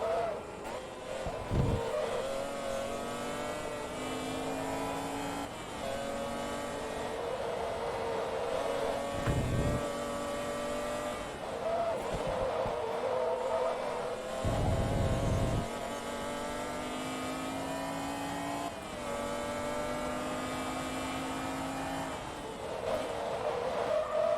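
A McLaren F1 race car engine in the racing video game Forza Motorsport 2 drones steadily through a cautious first lap, with rising and falling gear-change whines and a few sharp shift cuts, fairly quiet throughout.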